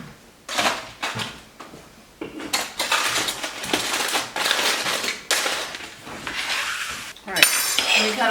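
A knife sawing through a burned pork chop on a plate at a home dinner, giving a series of close scraping and clinking strokes of blade and cutlery against the dish, some louder than others, with no talk.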